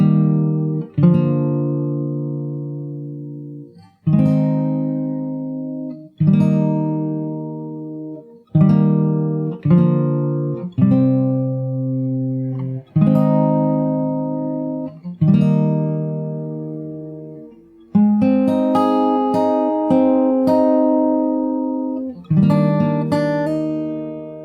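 Strummed acoustic guitar chords from the chorus and outro of a song ring out in a steady pattern, each strum decaying before the next, playing alone with no voices.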